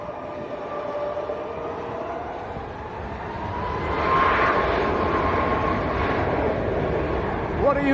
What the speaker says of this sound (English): The Air Boeing 737 MAX begins its takeoff roll but runs past the end of the runway.